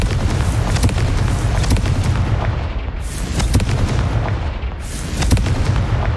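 Confringo blasting-spell explosions from the Hogwarts Legacy video game, with heavy booming blasts and crackling bursts repeating roughly every second over a dense, loud rumbling battle din.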